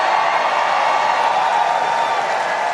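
Political rally crowd cheering and applauding, a steady broad roar of many voices and clapping at constant loudness, fairly close and unbroken.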